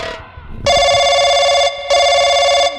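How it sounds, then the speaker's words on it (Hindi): A telephone rings in two long electronic bursts with a short pause between, loud and close, after some faint background murmur. "घंटी जाती है, ले भाई घंटी जाती है।"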